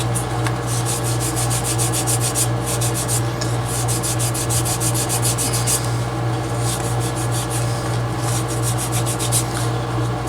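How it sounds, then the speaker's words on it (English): A wooden tool chest handle is sanded by hand with 220-grit paper, with steady back-and-forth rasping strokes in a regular rhythm, close and fairly loud, over a constant low hum. "I'll even everything up, sanding with 220"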